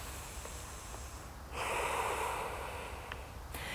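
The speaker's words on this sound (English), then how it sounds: "inhale." A deep, audible inhalation through the nose during a yoga lunge for runners, rising sharply and holding for about two seconds, close to the microphone and soft.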